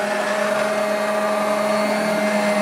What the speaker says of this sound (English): Leave the Vileda robot vacuum to do its stuff